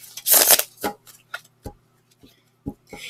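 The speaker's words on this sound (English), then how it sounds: "So we will give these a good shuffle." A few quick riffles and soft slaps of a tarot deck being shuffled, close and brief, followed by scattered light taps in a quiet room.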